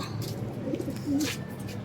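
Soft, low cooing of pigeons comes in brief murmurs over a noisy background, with a couple of short throaty coos.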